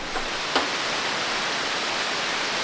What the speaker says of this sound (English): Tumpak Suwu waterfall.